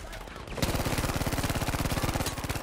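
Rapid automatic gunfire from a Type 2A weapon in the shooter game Battlefield V, a sustained loud burst of evenly spaced shots starting abruptly and hammering steadily to the end.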